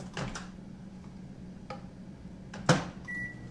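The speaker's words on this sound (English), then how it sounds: "you literally stick it in the microwave for 1 minute" A microwave oven heats a cup of Minute brand brown rice, a steady low hum broken by door and handling clacks and a short electronic beep near the end, with no talk.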